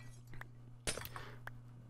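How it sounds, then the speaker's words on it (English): A glass block breaking in Minecraft, a sharp shattering clink that cuts in once, with smaller clinks before and after over a faint steady hum. "Take out the glass."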